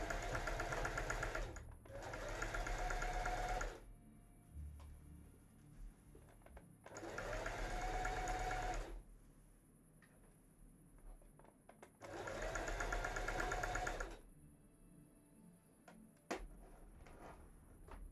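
A sewing machine stitching a cosplay costume runs in three steady bursts of about two seconds each, separated by quiet pauses, with a close, even mechanical whir.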